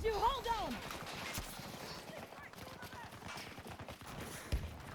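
Gunfire in the video game Battlefield 2042 during team deathmatch multiplayer, with quick bursts of shots crackling under a player's voice and game noise.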